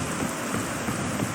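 Steady rain in the video game Peak makes a constant, even hiss with no breaks and no voices.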